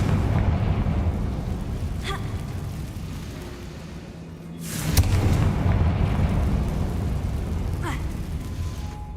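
A Confringo blasting spell goes off in Hogwarts Legacy, a deep rumbling explosion with a sharp burst near the middle over a steady low roar, with smaller pops before and after.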